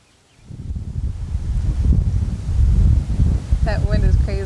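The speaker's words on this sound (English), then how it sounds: "That wind is crazy." Strong wind gusting outdoors near an old fence site, a loud steady roar buffeting the microphone that swells after a quiet start; a voice speaks briefly near the end.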